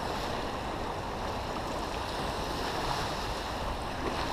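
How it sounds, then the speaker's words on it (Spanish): Sea waves along a shore make a steady, full wash of surf with a low rumble and some wind noise. The sound holds at an even loudness for the whole stretch and no voices are heard. "No sé si podéis escuchar el sonido del mar como lo estoy escuchando yo."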